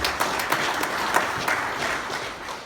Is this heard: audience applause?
yes